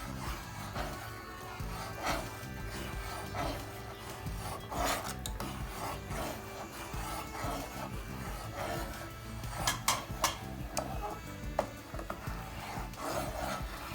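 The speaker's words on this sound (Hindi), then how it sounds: "जो अंडे हमने फेंट के रखे थे वो आहिस्ता आहिस्ता डालेंगे और साथ साथ हम चम्मच चलाते जाएंगे इस तरह से" A spoon stirring hot and sour soup in a pot as beaten egg is poured in, giving a close, continuous scraping and rubbing rasp with irregular louder strokes and no voices.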